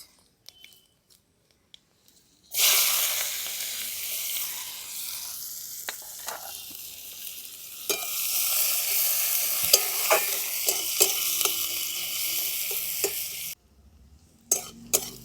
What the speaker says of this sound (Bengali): ফোড়নে দিয়ে দিচ্ছি পাঁচ ফোড়ন দিয়ে দিচ্ছি কেটে রাখা পেঁয়াজ